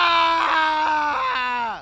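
A man lets out a short, loud scream of terror, a strained, sustained cry that wavers and drops in pitch as it fades, heard alone as a horror sound effect.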